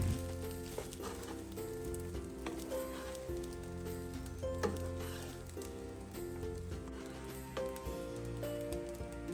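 Rice with frozen vegetables stir-fries in a pan, giving a continuous close sizzle with scattered scraping and tapping from the stirring, steady throughout with no voices.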